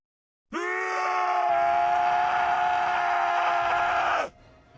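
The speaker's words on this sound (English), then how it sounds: "he could no longer hold back, and he began screaming" A single sustained, strained scream with a harsh tonal quality, loud and close, lasting several seconds before cutting off into quiet.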